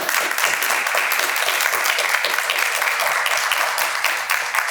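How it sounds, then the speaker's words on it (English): Sustained, even round of applause from an audience at a college honor society induction ceremony, dense clapping filling the room without a break. "So let's give them a round of applause"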